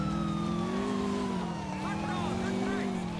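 Police car siren in the video game GTA IV, a loud, steady wailing tone sweeping slowly up and down over engine drone and game sound, heard continuously throughout.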